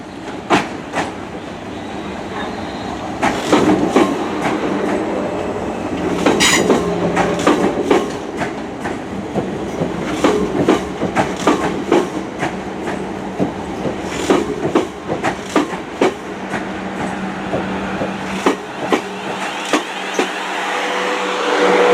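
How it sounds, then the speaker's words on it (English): A Class 444 Desiro electric train pulls away from Weymouth station, its hum and rhythmic wheel clicks on the rails building and then rolling on steadily, loud and nearby, with no voices. "we've got a Class 444 Desiro Southwest train service to London Waterloo"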